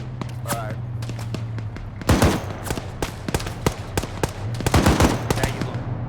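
Gunfire crackles in rapid, uneven bursts, sharp reports clustering in volleys over a steady low hum, with a voice talking intermittently between shots.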